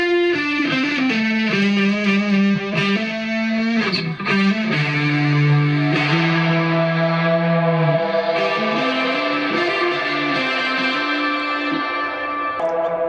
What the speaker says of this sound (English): a little flanger